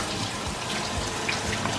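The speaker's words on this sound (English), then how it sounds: "So I'm going to go ahead and rinse the sweet potato." Tap water runs steadily from a kitchen faucet while a sweet potato is rinsed under it, a continuous close broadband splashing hiss with no talking.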